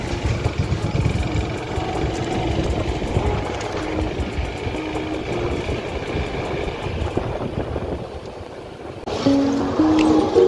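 A motor boat travels across a flooded former rice field, its engine droning in a continuous, rumbling hum that stays close and steady and grows slightly louder toward the end.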